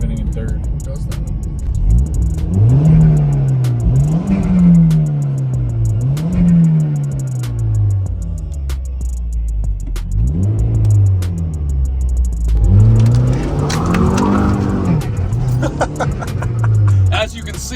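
Dodge Caliber SRT-4 accelerating hard with traction control off, engine revving up through repeated rising pulls and gear changes, loud and close from inside the car, with voices talking over it.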